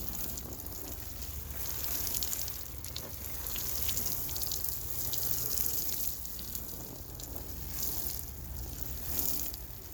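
A freshly seeded lettuce bed, covered with potting mix, is watered, giving a steady soft hiss of spraying water that swells and eases gently, fairly quiet and close.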